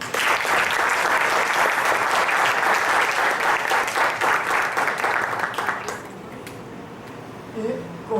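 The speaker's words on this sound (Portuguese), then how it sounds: "uma salva de palmas" An audience claps warmly at an opening ceremony marking a research lab's 20th anniversary. Loud, dense applause holds for about six seconds, then thins and fades away to a few scattered claps.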